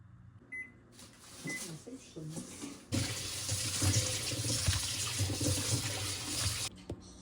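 A microwave oven runs while melting chocolate, a quieter stretch giving way to a steady, fairly loud droning hum that holds for several seconds before cutting off near the end.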